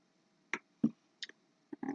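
Scissors snip through sticky material while cutting out a junk journal cover, giving a handful of quiet, separate cuts with pauses between them and a slightly longer rasp at the end. No one speaks.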